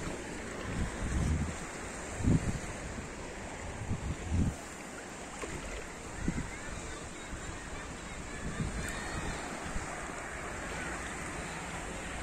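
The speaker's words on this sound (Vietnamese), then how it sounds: "Ở đây sóng rất là êm nhỉ, không to tí nào." Gentle sea waves lap at a shallow beach at Kỳ Xuân, Hà Tĩnh, a soft steady wash under wind rumble on the microphone, with occasional faint voices nearby.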